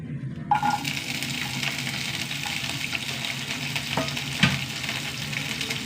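Thinly sliced small shallots fry in hot oil in a pan, a steady close sizzle with occasional stirring clinks and scrapes, no voices.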